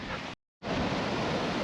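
Ocean waves wash steadily onto a beach in Japan, a broad, loud rushing surf noise with a brief silent gap near the start, then continuous roar with no voices.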